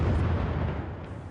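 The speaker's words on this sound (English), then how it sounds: "Did you hear that explosion now?" A shell bursts in the distance amid the war in Aleppo, a heavy low rumbling boom that rolls on and slowly fades away, with no voices over it.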